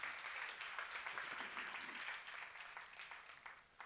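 A seminar audience applauds in a sustained, even patter of many hands that stays faint and distant, slowly tapering off toward the end.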